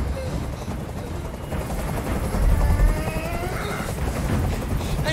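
A helicopter hovers in the video game Detroit: Become Human, a loud continuous rotor thrum and rumble with rhythmic blade chop beneath a dense scene ambience, rising briefly in the middle.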